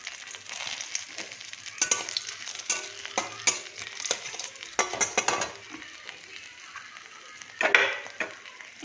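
Whole spices tempering in hot oil in a pan for a quick papad curry, a continuous crackling sizzle broken by clinks and scrapes of a spoon against the pan, no talk.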